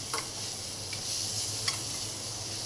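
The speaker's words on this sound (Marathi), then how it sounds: "बटरमध्ये आपले मशरूम फ्राय करून घ्यायचे" Mushrooms fry in butter in a pan with a steady, close sizzle and a few faint clicks of stirring, no voices over it.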